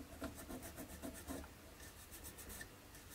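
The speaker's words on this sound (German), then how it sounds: "Und ja, schleifen uns das ein bisschen noch zurecht, dass das hier eben ein weicher Übergang ist." Rolled sandpaper scrubs soft ICM plastic on a 1/35 scale Hobby Boss Schneider CA tank model kit, smoothing a seam: close, steady back-and-forth rasping strokes in a quick repeated rhythm, with no talking.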